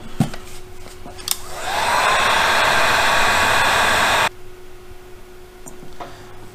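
A heat gun warms an engine part with a plastic inner cage during a Malossi RC-One 94cc scooter engine build. It blows a loud, steady airy hiss for about two seconds, then cuts off abruptly, leaving faint room noise.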